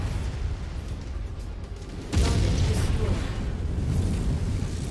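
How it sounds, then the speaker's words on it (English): A big explosion in the video game MechWarrior 5: Heroes of the Inner Sphere bursts in suddenly about two seconds in. A loud, broad boom rumbles on over steady game noise. "sometimes the graphics on this, like, you turn around, the big explosion's right there"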